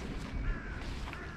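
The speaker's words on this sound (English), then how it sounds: "there's our little crows." Several crows in a small group at a backyard morning feeding spot give short, moderately loud caws over steady outdoor background noise.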